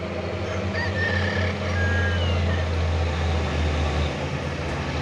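An orange Fuso truck reverses fast, its heavy engine droning loud and steady throughout while a few faint, short reversing beeps ring out over the rumble early on.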